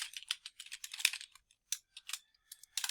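Quick bursts of keystrokes on a computer keyboard, irregular clicks in short runs with brief pauses between, close and fairly quiet, no talking.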